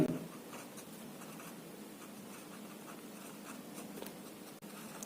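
Marker or chalk writing on a board during a geometry lesson, a faint continuous scratching stroke sound over quiet room tone, no speech.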